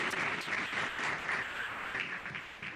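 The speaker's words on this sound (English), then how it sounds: "Give that applause to your parents who have been virtually watching us." Graduation ceremony crowd applauding for their parents, a full, continuous wash of clapping from many people that stays steady for a few seconds.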